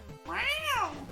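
A single rising-and-falling cat meow plays as the hit sound effect for the cat character in the video game Starboy Adventures, brief, clear and close.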